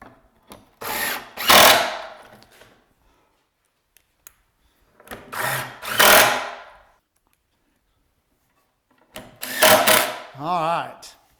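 Power drill driving short pocket screws into cabinet wood in three separate bursts, each a loud close whine that rises and cuts off, separated by quiet pauses, with a voice heard near the end.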